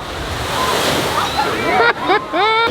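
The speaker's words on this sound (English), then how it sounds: "It's like the biggest wall of water you will ever see coming at you in a theme park." A huge wall of water crashes over riders on the Tidal Force splash ride at Hersheypark, a broad roaring surge of surf-like noise, with excited voices and screams rising over the splash toward the end.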